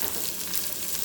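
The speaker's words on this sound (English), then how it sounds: "We're going to add some of the onions in, chopped onion." Chopped onions sizzle and fry in a hot pot for soup, a steady close hiss with no voices.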